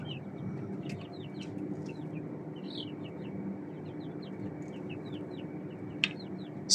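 Australorp chicks of a German line cluck and cheep in a steady, busy chorus of small high calls, close by and continuous, with one sharp louder peep near the end; no one speaks.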